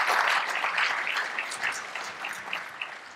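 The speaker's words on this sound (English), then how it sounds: "Can we give him a round of applause, please?" An audience at a chamber of commerce energy event applauding a panel, steady close clapping that slowly tapers over a few seconds.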